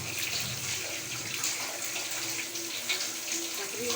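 Running tap water pours steadily over raw meat being washed in a home kitchen sink, a continuous close splashing hiss with no pauses and no talking.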